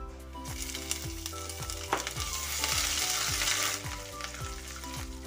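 Mace pieces, whole garam masala and grated ginger sizzling in hot oil for tempering, a bright loud crackling fizz that swells in the middle, heard close.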